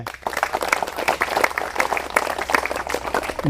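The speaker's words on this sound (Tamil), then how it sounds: "ஒரு கைத்தட்டுங்க" An audience at a talk on Uthiramerur and its palm-leaf voting system breaks into brief, lively clapping, fairly close and loud throughout.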